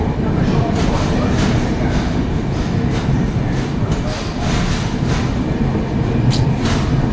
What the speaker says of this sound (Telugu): ఆ ట్రైన్ సౌండ్ ఉంటుంది చూడు